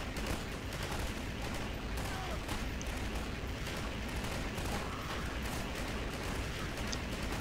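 Gunfire in the sandbox game Garry's Mod, a continuous loud barrage of shots and blasts that fills the whole stretch, with faint talk mixed in.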